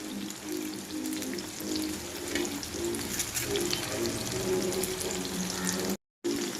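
Fish bajji fries in oil in a pan, crackling and sizzling densely and steadily at close range, with a brief dropout near the end and no voices.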